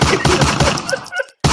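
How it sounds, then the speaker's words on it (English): A gunshot sound effect plays as a rapid burst of sharp shots that repeat evenly, stop abruptly with a short silence, then start again with one more shot. "Gunshots for her."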